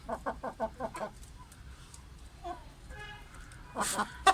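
Chickens and a rooster clucking in short bursts in a coop, a rapid series at first, then scattered calls and a louder squawk near the end, fairly close by.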